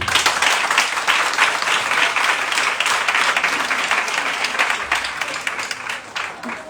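A crowd at an event on young women and entrepreneurship applauds its hosts, a loud, dense, sustained patter of many hands that tapers slightly near the end.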